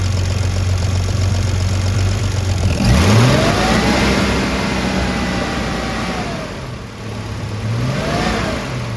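Triumph TR6 engine with Bosch PI fuel injection, idling and then revved, with a sharp rising rev midway that falls away into idle before another blip near the end, close and loud with no talk.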